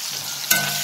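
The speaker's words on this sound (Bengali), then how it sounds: "পেঁয়াজগুলো দিয়ে কিছুক্ষণ ভাজাভাজি করে নেবেন।" Sliced onions hit hot oil over frying potatoes for ghugni, giving a short, close sizzle that flares up sharply halfway through the brief moment.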